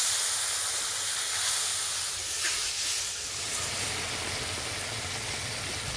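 Water poured into hot spice paste of turmeric, chilli, cumin and ginger in a pan for fish curry gives a loud, steady hiss that fills the clip and eases slightly toward the end.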